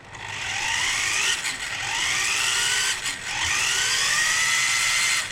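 Electric motor of a Tamiya RC monster truck, a Monster Beetle or Blackfoot rebuild, whines at high pitch and rises in repeated throttle bursts, loud and close with no talking.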